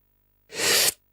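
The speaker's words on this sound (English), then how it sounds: "Ah, fuck, I sneezed." One loud close sneeze, a sharp breathy burst about half a second long, after a quiet moment.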